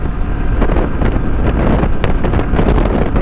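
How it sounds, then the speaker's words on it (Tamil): Loud, buffeting wind roars across the microphone while a motorbike rides over a bridge on a highway, a constant rumbling gust noise with no speech. "செம்ம காற்று, பிரிட்ஜ் மேலே போயிட்டுருக்கேன்"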